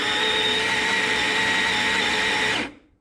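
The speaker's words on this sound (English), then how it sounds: "Really like this grinder, nice fluffy grinds there." Sette 270 burr grinder grinding a dose of coffee beans for espresso, one steady high-pitched motor whir lasting about two and a half seconds, then it stops abruptly. Close and loud, heard alone with no talk.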